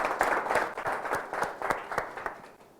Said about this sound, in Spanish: quiero que nos demos un interesante aplauso, por favor, para darnos la energía necesaria